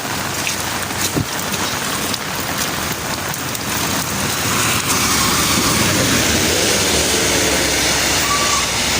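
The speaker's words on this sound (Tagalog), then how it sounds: "Yan, maulan." Steady heavy rain pours onto a national highway in Eastern Samar under dark skies, a dense continuous hiss that holds loud and even throughout with no voices.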